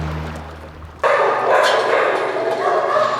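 Several dogs at a Louisiana animal shelter bark and yip close by, breaking in suddenly after a low hum and continuing as a busy, overlapping chorus.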